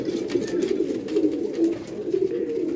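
Breeder pigeons cooing in a loft, soft repeated low throaty coos rising and falling close by, with faint background noise.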